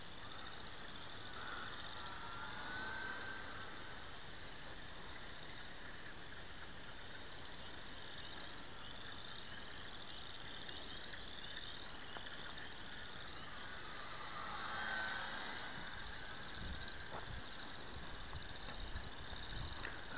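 A UMX Carbon Cub radio-controlled model airplane flies over a yard in the evening, its small electric motor a faint, steady whine that swells as it passes near around the three- and fifteen-second marks.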